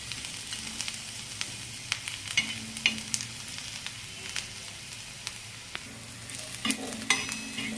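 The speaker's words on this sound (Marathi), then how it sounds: "तर आपण कांदा चांगला लाल करून घेऊया आता." Chopped onions fry in a pan for a Marathi chotha chutney, a continuous sizzle under repeated clicking stirs and spoon scrapes, close and with no talking.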